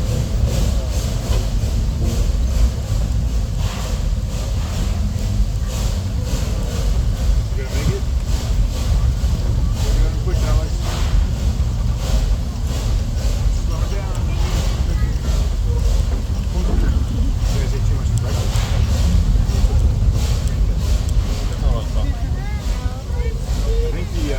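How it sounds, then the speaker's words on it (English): Narrow gauge train climbing the steepest pair of tracks past high and low trestles, a continuous loud rumble and clatter with wind buffeting, steady from start to end, with voices talking over it. "as we're going up the steepest pair of narrow gauge train tracks"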